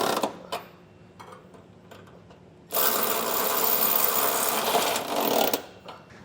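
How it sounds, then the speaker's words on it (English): Power socket tool tightening trailer hitch bolts on a 2023 Ford Edge: a few clicks and knocks, then a loud, steady whirring rattle for about three seconds before it stops. "you want to snug up the bottom bolts first so that it sucks the hitch up tight to the bottom of the frame"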